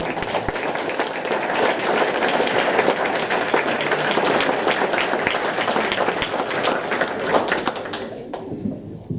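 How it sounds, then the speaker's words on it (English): A large audience in an induction ceremony hall gives a sustained round of applause for hall of honor inductees, dense clapping at steady loudness that cuts off abruptly near the end. "we could have one more round of applause for all of our honorees."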